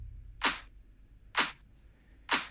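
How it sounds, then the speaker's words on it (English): Two-layer clap drum sample, a mono bottom clap with a top clap stacked on it, struck three times at an even, slow pulse; each hit is a bright, snappy burst with a short airy tail, played alone. "a top clap added makes the clap sound like this"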